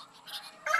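A rooster gives a brief, faint cluck near the end of a short, quiet moment.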